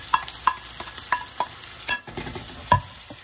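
Onions frying in a pan for a homemade spaghetti dish, with a soft sizzle under repeated sharp clinks and scrapes of a utensil stirring against the pan, heard close up with no talking.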